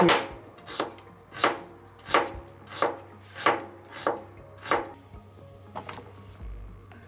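A knife chops vegetables, including lotus root and carrot, on a board for Japanese fukujinzuke pickles, about eight evenly spaced firm cuts close by, then a few softer taps.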